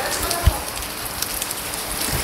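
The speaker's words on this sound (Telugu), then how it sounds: "ఇలా రెడీ అయ్యి బయలుదేరదామన్న టైంకి బీభత్సంగా వర్షం స్టార్ట్ అవుతుంది." Heavy rain falls steadily during a trip to Gokarna, a broad continuous hiss with a single faint thump near the start and no voices.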